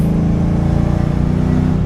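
A modified Nissan 300ZX with a swapped LS V8 engine runs loud and steady from inside the car, a deep continuous engine drone with a throbbing low rumble and no talk over it.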